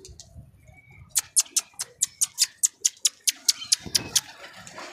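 Pigeons at a rooftop loft make a quick, evenly spaced run of about a dozen sharp clap-like beats against a quiet backdrop, with a faint murmur of voice before them.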